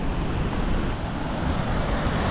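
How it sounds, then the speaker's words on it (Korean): A dense, constant roar of a waterfall near Si Phan Don in southern Laos mixed with heavy wind buffeting the microphone, loud and unbroken. "폭포 근처 오니까 바람 엄청나게 불어"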